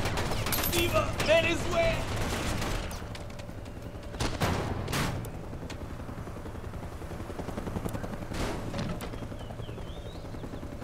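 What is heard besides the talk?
heavy gunfire in video game Mercenaries 2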